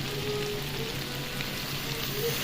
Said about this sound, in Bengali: এরপর আলু এবং চিকেন খুব ভালো করে আমি মিশিয়ে নিয়ে কষাতে দিয়ে দিলাম